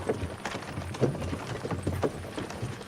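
Horse hooves clip-clop steadily in Kingdom Come Deliverance 2, several hoofbeats landing in an even rhythm at moderate loudness over a low background rumble, with no voices.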